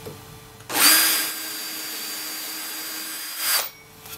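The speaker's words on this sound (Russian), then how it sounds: "Ну, сейчас осталось только просверлить отверстие на 10 в брусках березовых." A drill bores a 10 mm hole into birch wood bars, a steady whining motor hum running about three seconds with a louder burst at the start and a brief rise just before it stops.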